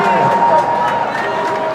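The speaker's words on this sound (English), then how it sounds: "And the GBN crowd alive now." Hockey crowd at a high school semifinal game cheering and roaring loudly and steadily throughout, a dense wash of noise with an announcer talking over it.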